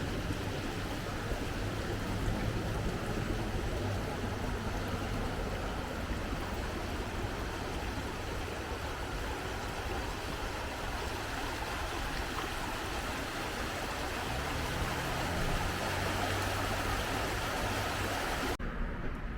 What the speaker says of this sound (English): the river goes under the road